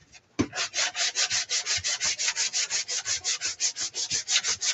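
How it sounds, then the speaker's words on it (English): Steady back-and-forth rasp of hand sanding on painted wood, about twenty regular strokes in a quick even rhythm, close and fairly loud with no talking. "So I'm just sanding because I did not paint very smoothly at all."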